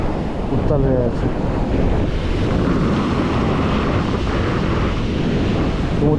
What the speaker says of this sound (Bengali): সমুদ্র কত উত্তাল হয়ে আছে